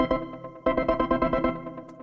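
Layered synth chords in a dubstep track pulse in a tight, choppy rhythm, with a short gap before the pattern kicks back in at full strength; no voices.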